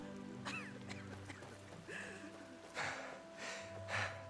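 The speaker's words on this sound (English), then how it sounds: "Ducks." Ducks quacking in the video game Enderal, a Skyrim mod, with several scattered nasal calls over a steady ambient game backdrop, moderately near and fairly quiet.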